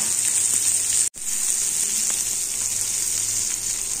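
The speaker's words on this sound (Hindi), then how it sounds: "एक चौथाई कप मटर को एक मिनट तक फ्राई किए हैं" Green peas frying in a pan, a steady bright sizzle that runs throughout, briefly cut off by a sharp momentary dropout, then resuming at even strength.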